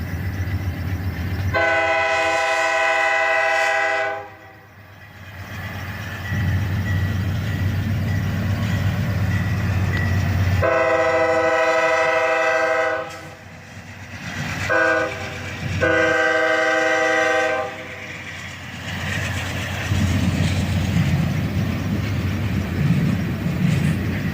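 Freight train pulled by a single Dash 8 locomotive departs a siding, its horn sounding loud in several long blasts over the steady rumble of engine and rolling cars.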